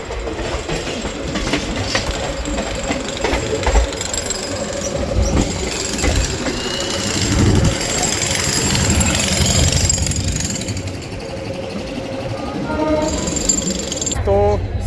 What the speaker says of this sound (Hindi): श्री गंगानगर से 53 किलोमीटर का डिस्टेंस कवर कर अपनी ट्रेन पहुंच चुकी है अबोहर जंक्शन